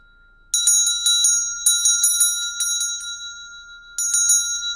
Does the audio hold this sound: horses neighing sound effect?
no